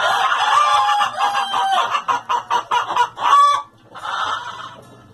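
Chickens crowded in a coop cluck and squawk in rapid, loud bursts, close by, with a rooster crowing through the flock's din.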